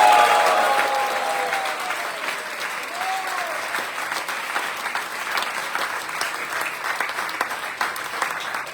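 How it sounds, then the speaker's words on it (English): Dense, sustained audience applause at a Vyasa Puja celebration, loud and continuous throughout, with a few faint tonal whistles or voices early on. "Please give them a big round of applause."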